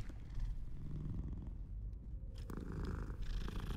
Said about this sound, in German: Na ja, Katze.